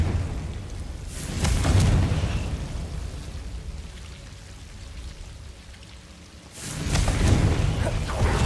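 Two loud, broad whooshing blasts from the Confringo fire spell in Hogwarts Legacy, one near the start and one near the end, each with a rumbling low body, separated by a quieter stretch of game ambience.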